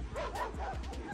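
A voice imitates a dog, giving quick, yappy barks and yips over roughly a second at a fairly faint level.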